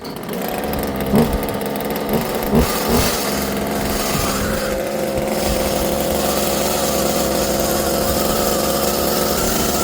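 Husqvarna 36 chainsaw engine running after starting, a loud, steady close two-stroke drone with a few revving bursts early on, then settling into a continuous idle as it warms up.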